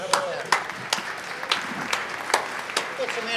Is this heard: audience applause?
yes